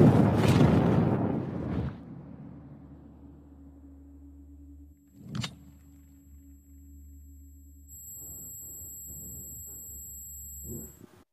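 A landmine explosion: a loud explosive burst at the start decays into a low hum, followed by a sharp short crack and faint scattered noises afterward.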